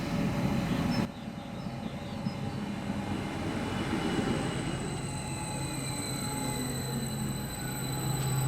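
A regional train pulls into the station at Ludwigslust in Mecklenburg with a long, steady rolling rumble, faint high wheel and brake squeals drawn out over it, heard from trackside with no voices.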